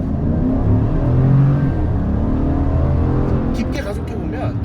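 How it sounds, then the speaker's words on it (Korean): GMC Sierra pickup with an OHV V8 engine accelerating hard, a deep steady rumble rising in pitch through the run, with tire and road noise building toward the end and no talk over it. "깊게 가속해보면 정말 트럭이라고 생각되지 않을 정도로 엄청난 리스폰스 그리고 엄청난 출력을 보여줍니다."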